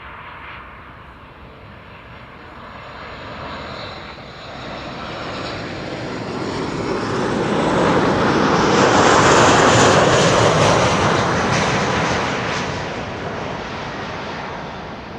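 A C-17 military transport arrives on runway 06 at Schiphol, its engine roar building from a distant rumble to a loud peak and then easing away as it passes.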